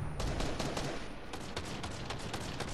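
AK rifle firing in the video game Fortnite: a run of rapid, sharp shots in quick bursts, loud and close over steady background game noise.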